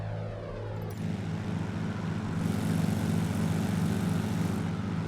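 Simulated aircraft engines drone steadily in a flight simulator, sounding odd, with a low propeller hum that shifts in tone partway through and then holds level throughout.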